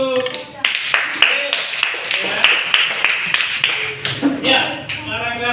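A classroom of pupils claps in distinct, rhythmic beats, fairly close and loud, with a teacher talking over the claps.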